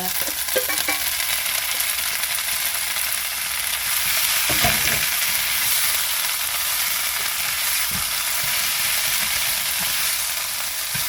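Pepper leaves stir-fried in a pan with the heat switched off, a steady sizzle and crackle running throughout with occasional scrapes and taps of the utensil.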